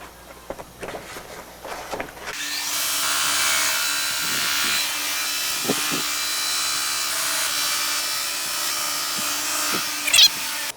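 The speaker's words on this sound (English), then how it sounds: "So now that we got these boards sanded" An electric sander works wooden boards for a mirror frame, a loud continuous whirring hum that starts after a few light knocks and handling sounds and runs steadily to the end.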